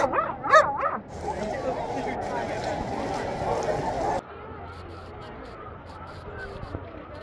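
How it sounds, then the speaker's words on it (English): A dog barks and yips among a crowd at a Golden Retriever Day gathering outdoors in snowy Golden, Colorado, with people talking throughout and the barking fairly close before the scene shifts to quieter background chatter. "that good dog's getting my attention."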